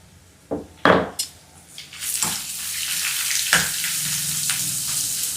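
Ginger, green chilli and chopped onion hit hot oil for upma, a few loud clattering drops into the pan followed by a sustained close sizzle with light stirring.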